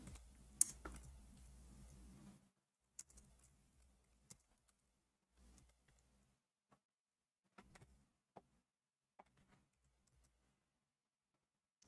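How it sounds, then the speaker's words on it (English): Computer keyboard typing: a stretch of low background noise, then sparse, quiet, irregular key clicks spaced out over several seconds, with no voices. "I'm typing in English again."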